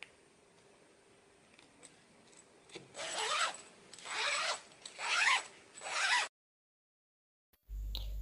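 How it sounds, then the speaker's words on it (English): A zipper is slid up along a homemade Dyneema composite fabric (DCF) tent: about four close, rasping pulls between 3 and 6 seconds, quiet handling before, then a sudden cutoff. "attach the zip puller. This can be quite fiddly and it does need a little bit of practice until you can get it, and then your zip is on"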